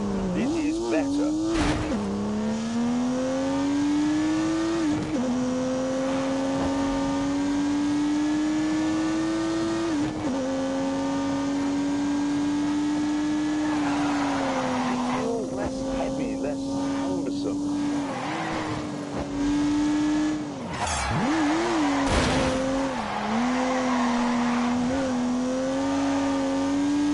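Car with a turbocharged 3-litre straight-six engine in The Grand Tour video game, engine droning steadily and rising in pitch through the gears with brief tyre squeals, while someone narrates over it.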